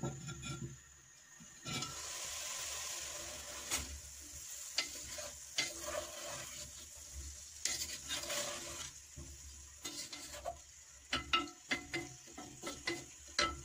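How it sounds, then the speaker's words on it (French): Courgette sautéing in a pan and being stirred during couscous preparation, a steady broadband sizzle with repeated scraping stir strokes that grow busier and more clattery toward the end, close and moderately loud with no talking. "Puis on mélange encore. Et on la laisse revenir encore une fois."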